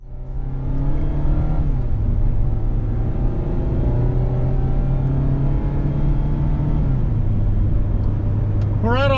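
A 2024 Mazda MX-5 Miata RF Grand Touring two-seater pulling away, its engine droning steadily from inside the cabin, the pitch climbing and shifting through gears, loud and continuous to the end.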